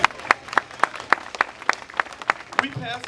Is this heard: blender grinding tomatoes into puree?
no